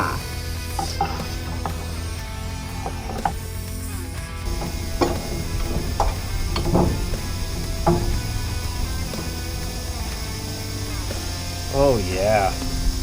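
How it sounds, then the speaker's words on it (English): A ratchet with a 1/2-inch socket works loose the shock tower mounting bracket on a 1965 Mustang, giving intermittent clicking and grinding bursts under ongoing talk, with some clanks of tools in a garage. "We're using a 1/2-inch socket here to remove the shock mounting bracket, shock tower mounting bracket removal."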